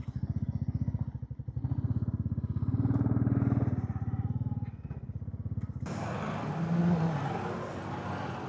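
A government motorcycle passing, its engine putting out a close, pulsing low exhaust throb that swells and fades, then cuts to a rougher, broader engine roar for the last few seconds.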